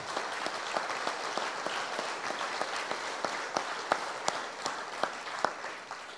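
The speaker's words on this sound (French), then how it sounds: "je pense qu'on peut à nouveau les applaudir parce que c'est vraiment super." A room audience applauds again, a steady, moderately quiet patter of many hands with a few sharper individual claps standing out, continuing evenly throughout with no talk over it.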